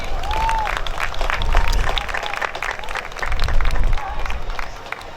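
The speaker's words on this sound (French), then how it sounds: "Donc, on peut les applaudir." A crowd at a CanadaFest ceremony applauds, clapping swelling in two waves with some cheering mixed in, fairly close and lively.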